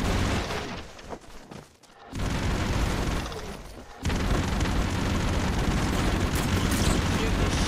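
Explosions in the side-scrolling action game Broforce, heavy roaring blasts that fill the mix with dense noise, briefly dipping before a second sustained boom near the midpoint, with a player talking occasionally underneath.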